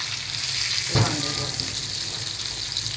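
Pomfret fish sizzles in hot oil with a steady, dense hiss, close up, broken by a brief clunk of a utensil about a second in.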